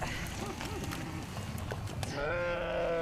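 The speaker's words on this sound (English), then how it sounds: "These sheep have adapted to a life of feast and famine by storing reserves in their fatty hindquarters." Fat-tailed sheep grazing on a mountain slope in Afghanistan's Wakhan region, several quiet bleats up close, then one long, louder bleat at the end, over soft rustling and hoof steps.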